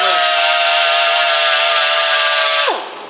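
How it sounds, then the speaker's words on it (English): Loud, continuous high whine of a small power sanding pad grinding melted plastic tabs off a C7 Corvette rear quarter panel laser mesh grille, steady for nearly three seconds, then spinning down. "we've got a little sanding pad here"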